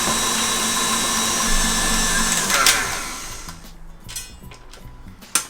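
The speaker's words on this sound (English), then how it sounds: "So I'm going to keep whisking it until the bowl is completely cool" A stand mixer whisks Swiss meringue for buttercream with a loud, steady motor whir that winds down partway through, leaving quieter clinks and rattles afterward.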